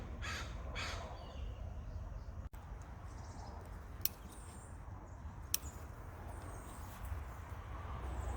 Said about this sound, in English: Crows are in the pear tree, enjoying all the pears.